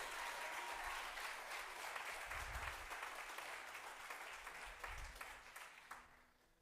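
Church congregation applauding during a Sunday service, a dense, steady roar of many hands clapping that stays loud before thinning out and fading near the end.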